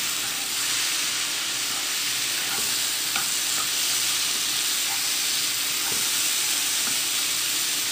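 Banana peel and green gram stir-fry sizzles in a hot pan while being stirred, a loud dense hiss with scattered light clicks and scrapes of the spoon, continuous and close, no voices.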